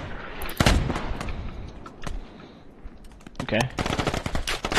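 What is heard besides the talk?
gunfire, bullets hitting the player in a video game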